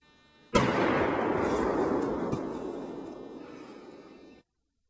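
Black powder wedge blast splitting a log: one sudden loud boom from a distance, followed by a long rumbling decay and echo that fades over about four seconds, with no talk.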